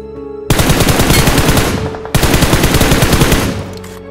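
Two long, loud automatic gunfire bursts from a battle royale mobile shooter game, BGMI, each a rapid, evenly spaced string of shots ringing close and harsh, a short gap between them and a trailing tail at the end.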